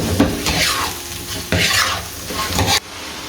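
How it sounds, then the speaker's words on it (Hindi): Fried boneless chicken stirred in a hot cooking pot for a chicken handi: three scraping strokes of the spoon over loud, steady sizzling, close up with no talk. "ये मेरे पास चिकन है जिसको हमने फ्राई किया था, ये सारा इसके अंदर डाल देंगे। हम इसको मिक्स कर देते हैं।"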